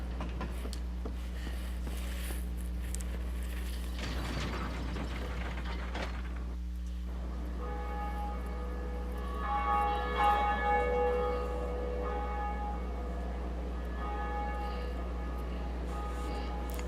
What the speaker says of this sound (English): Oh, up here is the Bell of Awakening.